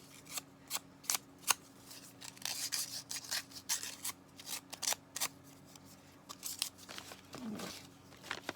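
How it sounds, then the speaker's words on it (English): Sandpaper roughing up the edges of paper for a journal in a tin, a series of quick scratchy rasps in irregular bursts, close and quiet, with no talking. "I'm going to take a little piece of my sandpaper and I'm just going to rough up the edges"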